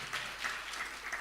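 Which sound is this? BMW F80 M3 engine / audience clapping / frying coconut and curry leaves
audience clapping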